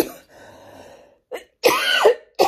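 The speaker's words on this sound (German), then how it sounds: "ich bin immer noch mit meinem Husten beschäftigt" A person coughs and clears their throat in a few separate bursts, close to the microphone, with short pauses between them and no speech.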